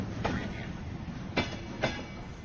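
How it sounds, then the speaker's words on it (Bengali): Sound effect of a train starting to roll, a low rumble with three sharp clanks of wheels over rail joints spaced irregularly, moderately near, with no talk. "স্বল্প বিরতি দিয়ে ট্রেনটা গড়াতে শুরু করলো।"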